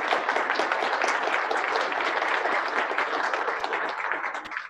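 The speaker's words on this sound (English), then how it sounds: "Just a round of applause for these individuals." An audience at a 2019 membership meeting gives a sustained round of applause, many hands clapping in a thick, even patter that tapers slightly toward the end.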